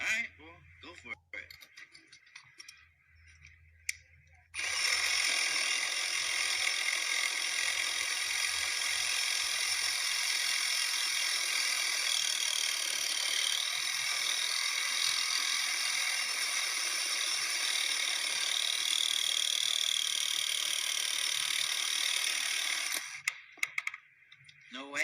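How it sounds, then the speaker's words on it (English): A Diablo extreme metal-cutting carbide-tipped blade grinds steadily through a steel trailer hitch ball, one loud continuous high whine lasting about eighteen seconds before stopping, with people talking briefly before and after. "We're going to cut through this trailer hitch ball."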